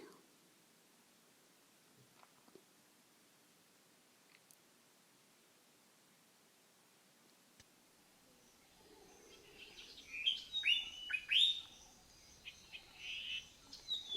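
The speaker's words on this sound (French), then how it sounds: "La nature se réveille doucement, les oiseaux commencent à chantonner" Birds at sunrise as nature wakes, chirps and short song phrases building from near silence into a lively, moderately close chorus toward the end.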